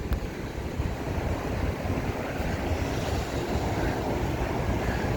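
Sea waves on Blackpool Central Beach surge in a continuous wash of surf mixed with gusty wind buffeting the microphone, steady and fairly close, with no talking.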